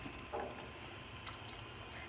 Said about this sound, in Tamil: இப்போ நம்ம இது கூட புளி தண்ணி ஆட் பண்ணிக்கலாம்.